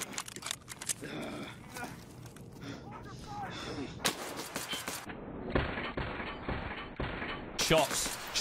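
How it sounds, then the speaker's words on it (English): Gunfire in Escape from Tarkov, several sharp shots in quick bursts, some distant and some closer, mixed with game ambience and crackling noise. "Shots. Shots."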